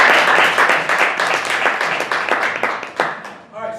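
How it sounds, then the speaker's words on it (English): An audience claps for a couple at a date night show, a full burst of applause that gradually thins and fades toward the end. "Let's give them a round of applause"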